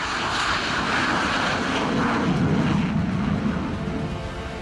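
Twin-engine stealth fighter jet, a loud broad engine roar that swells toward the middle and then eases slightly, heard on its own with no talking.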